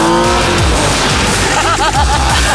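A Porsche Boxster sports car drives hard, its engine roaring loud and close with rising revs and a brief tyre squeal toward the end.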